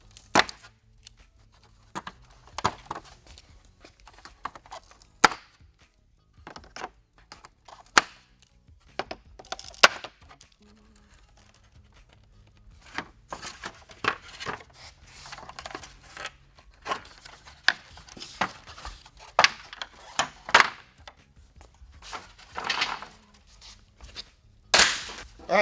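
Honeycomb grille inserts are pried out of a 2005-07 Ford F250 grille shell with sharp plastic snaps and cracks, irregular and close, separated by quiet pauses.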